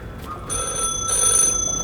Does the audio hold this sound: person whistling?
no